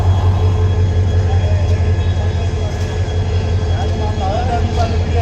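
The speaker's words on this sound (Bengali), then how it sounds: "আমরা এই ট্রেনে করে ব্যাক করব ঢাকার উদ্দেশ্যে।" Loud, steady rumble of a train at Jamalpur's Dewanganj railway station, a continuous low drone with a faint squeal toward the end and no talking.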